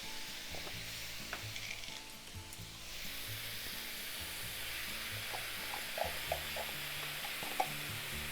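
Pork and kimchi sizzle steadily in a hot pan for a stir fry, a continuous frying hiss with occasional scrapes and stirring clinks, close and moderately quiet with a low hum underneath.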